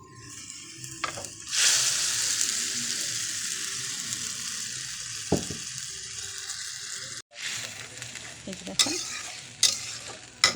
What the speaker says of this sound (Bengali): মশলাটা আমি সুন্দর করে কষাবো